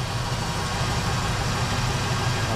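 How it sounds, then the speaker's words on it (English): An old car left wrecked for twenty years idles warm with its exhaust rumbling, a steady, loud, low engine drone that stays even throughout without any talk. "even the exhaust sounds good."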